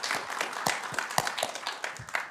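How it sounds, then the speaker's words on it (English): Brief round of applause from an audience at a Pride Month celebration for the Spectrum Ensemble, moderate, irregular clapping from a modest crowd, close and uneven. "Another round of applause for them."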